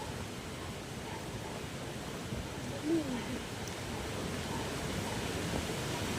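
Steady, broad roar of strong typhoon wind blowing, with one brief gust swelling louder midway.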